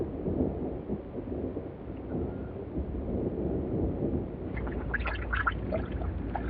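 Low, rolling thunder from an approaching thunderstorm rumbles steadily at a distance, fairly faint, with light rain or wind texture and a few bird-like calls near the end.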